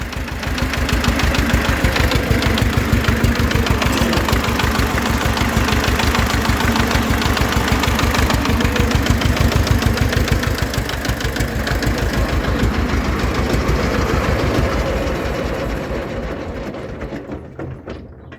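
A GAZ-24 car engine idles after start-up with a steady, loud, knocking chug that continues for most of the clip and fades slightly near the end.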